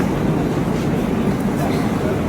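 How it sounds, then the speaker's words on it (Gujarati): A Mumbai local train runs near Borivali, heard as a loud, constant rumbling roar from inside or beside a crowded carriage, with no clear talk. "જો બોમ્બેની આ મજા છે લોકલ ટ્રેનમાં."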